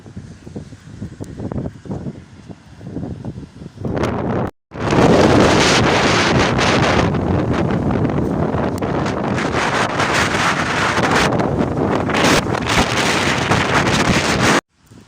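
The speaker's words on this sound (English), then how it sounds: "Lots of cloud and lots of wind." Strong wind buffets the microphone outdoors under a cloudy sky, a loud, continuous roar that surges after a brief quieter stretch and holds steady throughout, with no one speaking.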